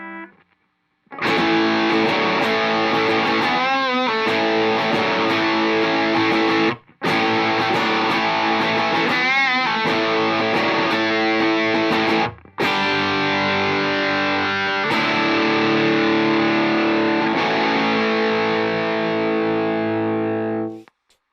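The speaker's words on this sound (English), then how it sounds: "let's try the MXR Distortion 3" An electric guitar plays through an MXR Classic Distortion pedal, loud saturated chords and riffs ringing for long stretches with two brief breaks between phrases.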